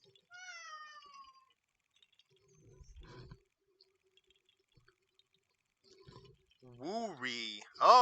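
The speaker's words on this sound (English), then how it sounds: "Aw, kitty." A cat in a Zelda video game, set around Zora's Domain and the Lanayru Wetlands, meows softly at first, then lets out a louder run of meows near the end against a quiet background.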